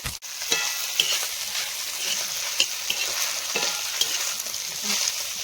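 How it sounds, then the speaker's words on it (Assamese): Chopped vegetables for homemade chowmein frying in a pan with a continuous close hiss and sizzle, punctuated by occasional light taps and scrapes of a stirring utensil. "এয়া চব্জি ভাজি আছোঁ।"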